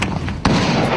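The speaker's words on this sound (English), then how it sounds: "incoming rounds just landed in this area" A sharp, heavy artillery blast about 50 yards away cuts through a steady rumbling background outside Benghazi, Libya, followed by continued low roar.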